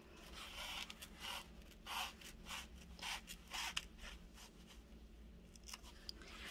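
Scissors snipping the corners off the foam edges of a headband, a run of soft, close crunching cuts in a slow, uneven rhythm, quiet and alone without voices.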